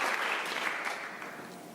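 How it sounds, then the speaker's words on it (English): Conference audience at a scientific congress session on HIV care applauding a doctor, a steady, fairly faint wash of many hands clapping that gradually tapers off, with no voices over it. "Please a big round of applause for Dr."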